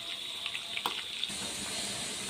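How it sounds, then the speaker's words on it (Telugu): Fish frying in oil in a pan, giving a quiet, continuous sizzle with a few scattered crackles and pops, heard close and alone. "చూడండి మన ఫిష్ బాగా వేగుతుందండి."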